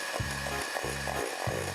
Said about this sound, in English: I suggest using an electric whisk for this.